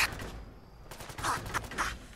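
Fallout 4 combat gunfire cracks out in a quick run of several sharp shots at moderate distance, bunched closer together toward the end, over a low game backdrop.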